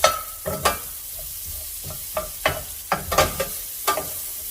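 Garlic slivers, five cloves' worth, sizzle in a pan alongside fresh green beans, a soft steady frying hiss broken by a series of clinks and scrapes of stirring.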